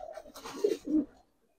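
Giribaz racer pigeons giving a short, close, soft coo of two throaty pulses, heard alone.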